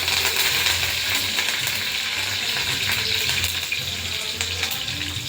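Curry leaves sizzling in hot oil in a frying pan: a steady, bright, close crackling hiss that runs throughout, with some stirring.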